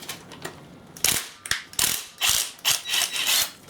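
Ratchet wrench clicking in several loud, close bursts as long bolts come out of the crusty pulleys on a VW engine, quiet at first and then in rapid repeated spurts with brief pauses.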